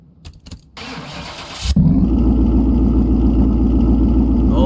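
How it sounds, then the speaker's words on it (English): A Plymouth Road Runner in Car Mechanic Simulator 2021 cranks and fires up, settling into a loud, deep, steady V8 idle that rumbles on without pause; a brief burst of game noise comes before the start. "let's fire up the engine really quick and see what this thing sounds like"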